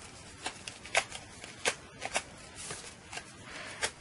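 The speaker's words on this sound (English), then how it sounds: "I'm just taking my bone folder and I'm going to curl these edges up" Soft papery rustles and scrapes as a bone folder curls the edges of punched cardstock for a handmade card, a series of light close strokes with no talk.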